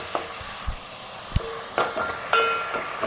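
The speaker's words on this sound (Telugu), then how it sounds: "ఉల్లిపాయలు కొంచెం వేగాక పచ్చిమిరపకాయలు వేసుకుందాం." Onions and green chillies fry in a pan for an eggplant and dried fish curry, a soft steady sizzle broken by a few sharp scraping stirs and clicks, with no voices.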